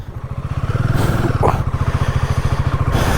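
Close, loud motorcycle engine on a Ladakh bike trip setting off from Srinagar, a steady rapid pulsing exhaust beat with slight revving swells throughout.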